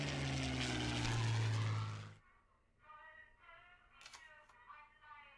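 World War II aircraft engines in the card game Kards drone loudly and close with a propeller hum for about two seconds, then cut off abruptly, leaving quieter tonal game effects.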